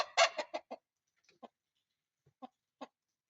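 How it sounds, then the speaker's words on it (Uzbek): A giant chicken clucks alone, a quick burst of clucks at first, then a few sparse single clucks after a pause, close and clear. "Gigant tovuq"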